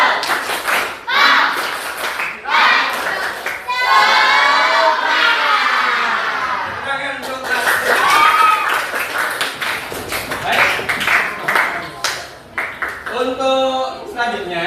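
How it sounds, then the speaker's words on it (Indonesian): A group of children in a classroom claps a rhythmic chant pattern, with loud bursts of patterned claps mixed with chanting voices and a teacher's speech. "tepuk semangat."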